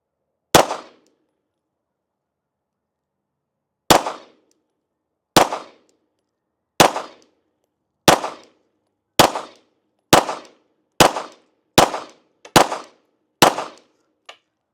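Eleven pistol shots from a Springfield Echelon fitted with a red dot sight, fired at a paper target. A lone first shot is followed by a pause, then ten sharp reports come at a quickening pace, each loud and clean with a short tail.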